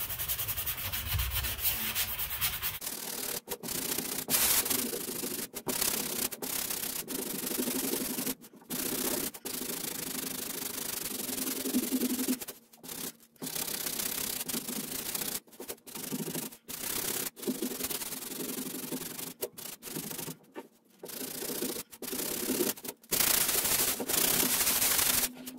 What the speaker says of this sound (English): Just gonna go ahead and give it a nice sanding.